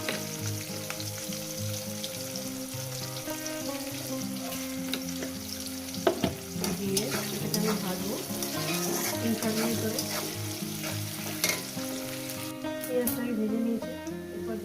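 Onions and salt sizzle loudly in a hot pan of oil for a Bengali fish curry, a steady close fry with occasional stirring scrapes throughout.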